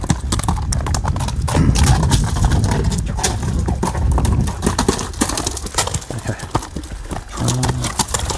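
A light, fast Kyrgyz horse moves close by, its hooves clip-clopping in a brisk, steady rhythm, with a whinny and faint voices in the background.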